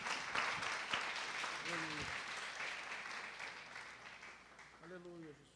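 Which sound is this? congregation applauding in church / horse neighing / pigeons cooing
congregation applauding in church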